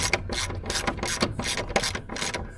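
A ratchet wrench clicks in repeated rapid bursts while loosening the sunroof track bolts on a 2014 Mercedes W212 E350 panoramic roof, close and fairly loud, with no talking.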